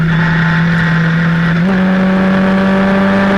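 Historic Formula Ford 2000 race cars roar past at Brands Hatch, their engines loud and sustained, with one steady high whine that steps up in pitch partway through as the cars pass close by.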